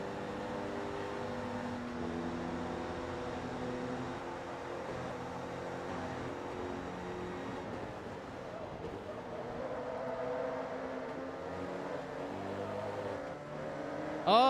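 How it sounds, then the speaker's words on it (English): A V8 racing engine in Forza Motorsport 2 drones with steady tonal harmonics, shifting pitch through gear changes, continuous and fairly close, with another car passing briefly at the end. "It sounds like a V8, though. Now that we're in clean air."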